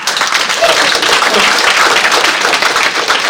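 Audience applause at a joint public meeting of county commissioners and the City of Missoula, a steady dense wash of clapping sustained throughout at full loudness, with some voices mixed in.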